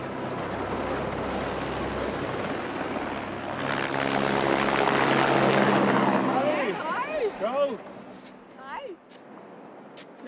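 A helicopter in a Swiss national park holds a loud, steady rotor and engine roar that slowly swells and then fades away, while people talk nearby.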